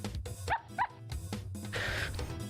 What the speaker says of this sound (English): Trapping the barking monkey.